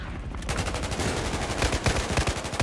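Sustained automatic gunfire from Battlefield 4's campaign, a dense rapid rattle of shots running throughout at close range, with louder individual bursts near the end and no talk.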